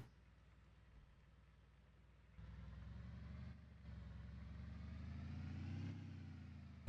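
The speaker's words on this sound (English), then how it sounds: "The truck motor is pretty quiet, unless you're in the cab, then you can kind of hear it." A truck engine idles in the cab in the video game Lumberjack Simulator, a quiet steady low rumble that steps up in level partway through and swells slightly near the end.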